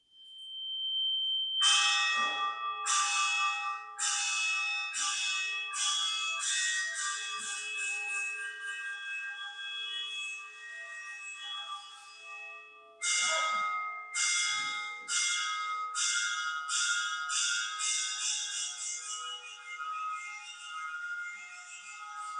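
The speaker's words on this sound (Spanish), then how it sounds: "Lo decía la campana." A church bell rings alone in a steady series of bright, resonant strikes, about a dozen in a row. After a brief pause a second run of strikes follows, each tone lingering under the next.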